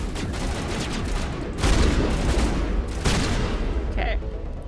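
Sustained gunfire in the Mass Effect video game, a dense continuous barrage with heavier bursts about two and three seconds in, loud and steady throughout.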